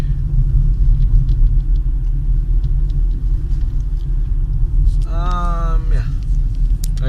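A car drives along at night, its low engine rumble and road noise steady and close throughout, with a brief tonal chirp near the end.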